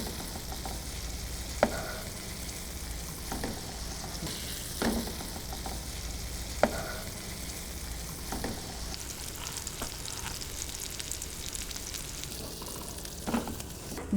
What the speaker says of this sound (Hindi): बैंगन हमने फ्राई कर लिए हैं।